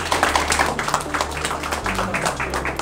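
Audience claps for a high school debate team at a student debate contest, uneven rhythmic clapping close by with a low steady hum and some background chatter underneath.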